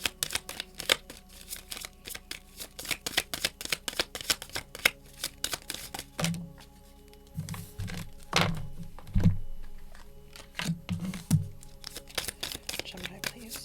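A small deck of tarot cards being shuffled close up: rapid bursts of crisp card riffles and flicks, broken by softer thumps and taps as the deck is squared, with no talking.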